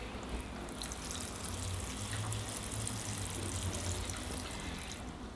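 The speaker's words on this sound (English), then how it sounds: "I'll give the tree a water now" Water is poured onto a Northern bog style bonsai forest, making a soft steady trickle and splash that goes on for several seconds without a break.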